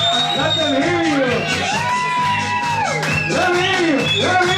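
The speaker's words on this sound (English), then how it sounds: "Yeah, give a big round of applause! Let them hear you!" Bar audience at a mermaid aquatic burlesque show cheers, whoops and shouts loudly and continuously, a dense crowd roar with voices rising and falling over it.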